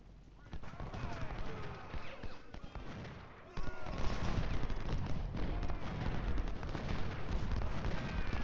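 Volleys of musket and cannon fire rumble through a Civil War battle in Ultimate General: Civil War, the Rio Hill fight, with dense overlapping shots growing heavier and louder after a brief lull.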